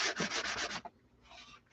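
A chalk-painted thrift store sign is hand sanded with quick, rhythmic strokes of a scratchy rub, then a pause, then a softer second burst of sanding close by.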